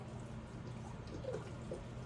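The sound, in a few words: chicken broth being poured into a pan of cabbage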